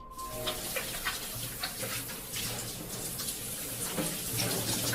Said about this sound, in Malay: terdengar dengan jelas bunyi orang mandi.